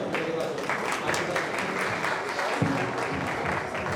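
An audience applauds steadily for several seconds after a group presentation at a one-day educational seminar held at a Gospel Baptist church, the clapping dense and continuous with no voices over it.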